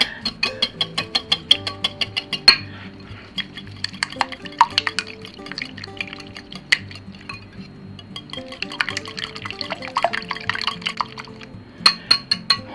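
A whisk or fork beats an egg mixture with garlic powder, parsley flakes and a tablespoon of water in a bowl, giving quick repeated clinks and wet sloshing strokes in bursts, close and fairly loud.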